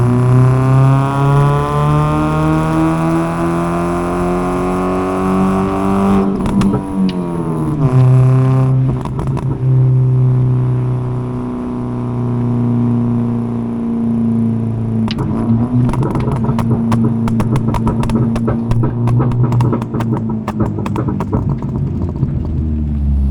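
A Ford Figo with a new muffler drones through its gears, engine harmonics rising and shifting as it accelerates, dropping after a downshift, then pulling again under loud, close, continuous exhaust rumble with crackling bursts near the end.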